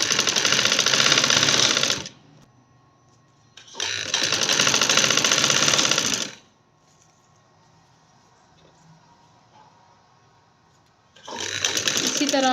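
A sewing machine stitches lace onto a frock for a one-year-old girl, running in three loud, steady bursts of whirring with quiet pauses between them.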